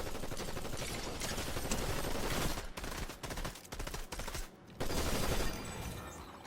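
Dense, loud gunfire from the video game Fortnite, with rapid overlapping shots and brief pauses near the end.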